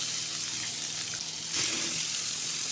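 Onions with cumin sizzle in hot oil over a full flame, a steady close hiss that swells briefly when the food is stirred.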